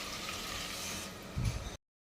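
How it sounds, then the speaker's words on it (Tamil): A pot of water for cooking biryani rice boiling steadily, a continuous bubbling hiss with a brief louder burble near the end before it cuts off. "நல்லா கொதிக்குதுங்க"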